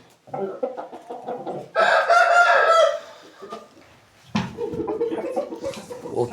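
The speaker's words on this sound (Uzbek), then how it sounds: "Yirik xo'roz ekan." A large rooster crows loudly and close in one long call, followed by softer clucking and someone speaking briefly.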